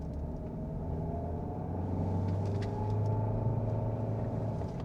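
From inside a 2025 Kia Sorento hybrid, the 1.6 turbo engine drones steadily while the car climbs a hill slowly in traffic. It is a low, continuous hum that swells slightly midway, with no talking.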